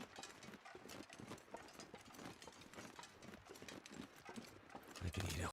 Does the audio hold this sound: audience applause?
no